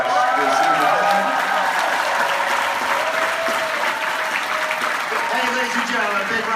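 An audience at a New York Comic-Con 2015 panel for Ash vs. Evil Dead breaks into loud, sustained applause mixed with cheers and whoops, filling the hall steadily for several seconds.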